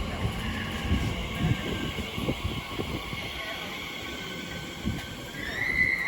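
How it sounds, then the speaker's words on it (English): Train unit 800 319 passes through West Ealing station, a rumbling roll of wheels and carriages with a rising electric whine toward the end, heard from the platform at moderate distance. "those 800 319 working a service from Paddington to London Paddington, running back 31 minutes late"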